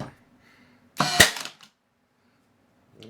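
A Ridgid Hyperdrive 18V 18-gauge brad nailer on max setting fires a single sharp, loud crack into wood, followed by quiet and a faint rustle afterward.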